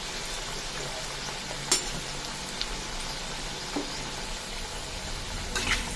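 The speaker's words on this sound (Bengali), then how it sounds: "এইভাবে আমি পকোড়াগুলো ভাজবো।" Bottle gourd peel pakoras frying in hot oil, a steady broad hiss of sizzling with a few faint pops and crackles, close and continuous throughout.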